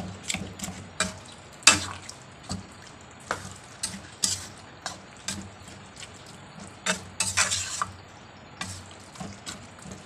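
A spoon scraping and stirring Malaysian beef rendang with lemongrass in a cooking pot, in irregular knocks and scrapes over a soft simmering background.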